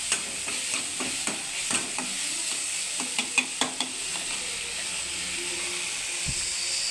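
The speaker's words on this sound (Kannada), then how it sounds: "ಸ್ವಲ್ಪ ಲೈಟಾಗಿ ಫ್ರೈ." Beans palya lightly frying in a pan, a soft continuous sizzle broken by a series of sharp scraping stir strokes and clinks of a spatula against the pan, close by.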